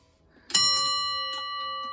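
A railway signal box block bell, rung to signal a train entering the section, strikes one clear metallic ding that rings on with a long decay, followed by a fainter second tap.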